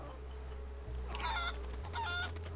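A chicken in the video game Guacamelee clucks in two quick bursts of bright, warbling calls over a steady low background hum.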